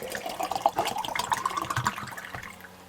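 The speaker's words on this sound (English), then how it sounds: "So now my water bottle is full with clean water." Water pours into a 32-ounce water bottle with a rising gurgle as it fills, close and fairly quiet, ending after a few seconds.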